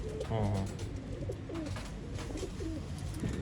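Pigeons offered for sale at a loft in Bangalore, cooing in soft repeated rolling calls close by, with someone talking over them throughout.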